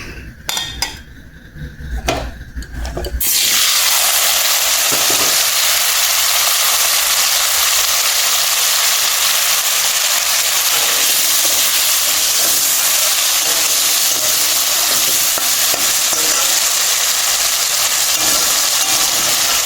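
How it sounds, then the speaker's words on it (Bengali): Potatoes drop into hot oil in a pan after some light clatter of utensils, then a loud, dense sizzle and hiss sets in and continues steadily without talk. "এলা মুই আলু ভাজির যাম"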